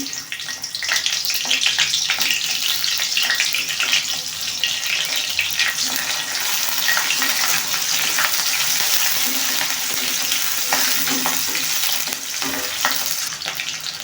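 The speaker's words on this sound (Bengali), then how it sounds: "এখন দিব পেঁয়াজ আর কাঁচামরিচ কুচি" Chopped onion and green chili frying in hot oil in a wok for a bean seed and potato curry, a loud, steady, close sizzle with stirring scrapes that runs the whole time, without speech.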